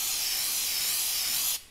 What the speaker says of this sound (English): spray some brake cleaner onto it